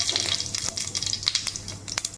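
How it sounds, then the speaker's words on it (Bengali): Nigella seeds temper in hot oil in a kadai, crackling with quick, close pops and spits over a sizzle before stopping abruptly. "কড়াতে তেল দিয়ে দিলাম আর কালো জিরা ফোড়ন দিয়ে দিলাম।"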